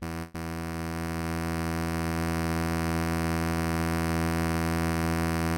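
U-he Bazille software synthesizer tap map oscillator gives a harsh, steady buzzing drone full of dense harmonics, loud and unchanging after a brief dropout at the start, with no voices.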